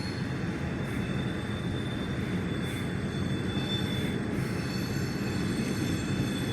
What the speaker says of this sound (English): Pretty long train though.